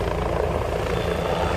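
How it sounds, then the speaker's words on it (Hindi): Helicopter arriving at Mahakumbh in Prayagraj, a loud steady rotor and engine roar filling the short clip without a break. "देख लो ये आ चुका है हेलीकॉप्टर।"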